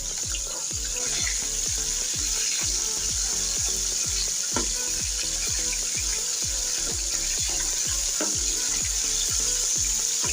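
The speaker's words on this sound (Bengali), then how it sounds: "আমি মাছগুলো একটু ভালো কড়া করে ভেজে নিয়েছি।" Baila river fish frying crisp in a pan, a steady loud sizzle with rhythmic stirring or spatula scrapes repeating throughout, no voices.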